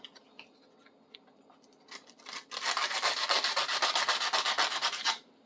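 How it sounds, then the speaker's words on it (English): Sandpaper rubbed by hand over a small metal tool part, mostly aluminum, during a restoration, giving a steady run of close, rhythmic rasping strokes after a few quiet scuffs. "There's where we need the sandpaper."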